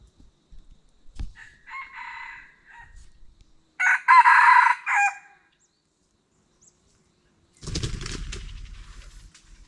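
Rooster crowing at a rural Thai or Lao homestead, a few crows and clucks spread out with quiet gaps, one loud nearby crow in the middle and a rougher burst toward the end.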